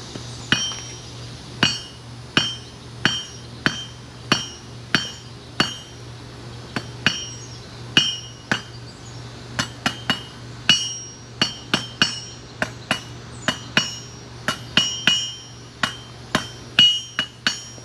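Hammer blows on hot steel as a point is drawn out on the horn of an anvil while forging an S hook at a blacksmith's forge: a steady run of ringing, close strikes about every half second over a low hum.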